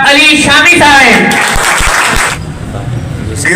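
Audience applause greeting a poet at a mushaira poetry gathering in Bhalwal, Pakistan, a clapping crowd under an announcer's voice that then fades, leaving a short quieter tail.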